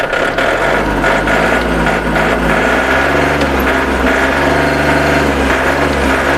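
A 39-horsepower Kubota or Yanmar tractor diesel engine idles steadily and loudly up close, a continuous low rumble with no voices.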